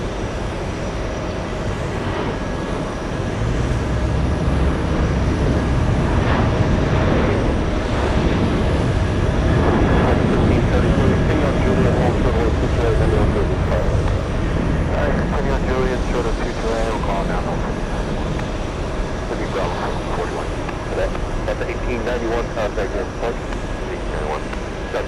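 A passenger jet taking off at JFK Airport, its broad engine roar sustained and loud for the whole stretch, with radio chatter and voices mixed in beneath it.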